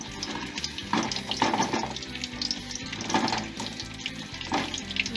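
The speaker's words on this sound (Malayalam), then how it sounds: "എണ്ണ ചൂടായി, നാരങ്ങ ഓരോന്നായിട്ട് എണ്ണയിലോട്ടിടാം." Whole lemons dropped into hot sesame oil for lime pickle crackle and sizzle in a steady hiss, with louder spitting bursts every second or so as each one goes in.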